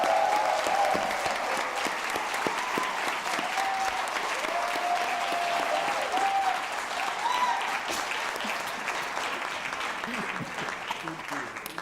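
An audience applauds a guest walking onto a stage at a talk event, sustained dense clapping with some cheering that fills the room throughout and slowly tapers.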